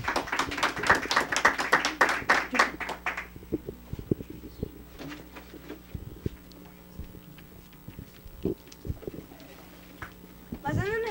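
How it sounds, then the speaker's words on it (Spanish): Applause for a student magician at a school event, a few seconds of close, uneven clapping that stops abruptly, followed by quiet room noise with scattered taps and movement. "Aplausos para la maga Arely,"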